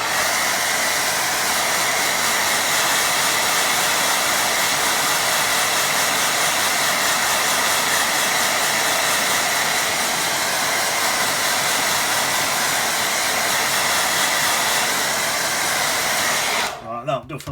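A hair dryer blows steadily and loudly over a wet watercolour landscape painting, a continuous roaring whoosh that cuts off abruptly at the end.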